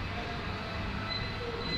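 A metro train at a Bangalore metro station rumbles steadily as it runs, with a broad continuous roar and faint high squeals from the wheels, loud and close throughout.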